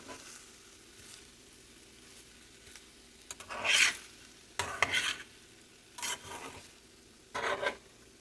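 Vegetable fried rice being mixed in a pan: a faint background sizzle with a few separate scraping, rasping spatula strokes at irregular intervals, close by and without any talk.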